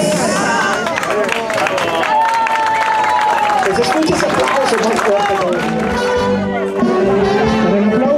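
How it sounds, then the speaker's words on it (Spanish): Loud, sustained applause from a large crowd at an anniversary bolero afternoon and queen's coronation, with cheering and voices mixed in throughout, steady and close. "Escuchas aplausos más fuertes."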